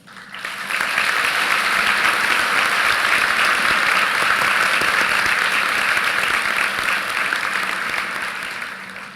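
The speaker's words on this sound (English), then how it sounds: "Please join me in applauding their many contributions to the academic life of Rollins College and the success of their students." A commencement audience gives sustained, loud applause for emeritus faculty at a Rollins College ceremony, with dense clapping that swells in quickly and holds steady for several seconds before tapering slightly.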